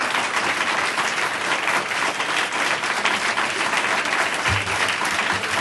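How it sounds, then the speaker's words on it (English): Sustained applause from the audience at a board of education meeting, a steady dense wash of clapping that holds loud and even throughout. "I appreciate your applause."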